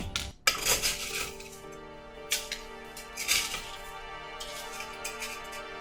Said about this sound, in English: If you think there's too much ice, add a little bit more.